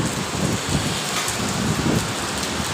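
Rain comes down in Dubai as a loud, constant hiss with a few low rumbling swells underneath, close and continuous.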